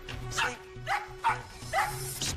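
A dog named Lucky barks in several sharp bursts, four or five close barks with short gaps, fairly near and loud over a faint steady background hum.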